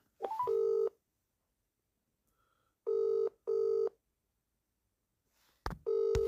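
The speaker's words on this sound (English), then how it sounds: "Ring up Graeme, Kenna." Telephone ringback tones from a call to a council legal department's line, three paired ring bursts with silent gaps between, clear and steady, followed by a click as the line connects.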